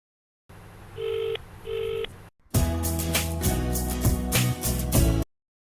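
Phone keypad tones while dialing a call: two separate clear beeps, then after a brief gap a denser run of rapid overlapping key tones over a busy background.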